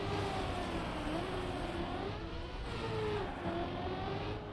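A race car engine in the Trackmania video game revs high and steady. The whine holds loud and close for the whole stretch with only slight dips in pitch, and no voices are heard.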